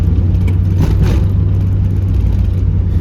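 A Mazda Miata accelerates on the road, its engine giving a steady loud drone and rumble with a constant low hum, heard from inside the car with no talking.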